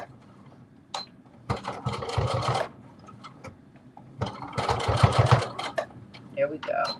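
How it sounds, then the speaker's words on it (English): A sewing machine back stitches a fabric face mask in two short bursts of fast, buzzing stitching, separated by a quiet pause. A person talks softly between and after the bursts. "once I get to the end, I'm doing a back stitch and going back forward"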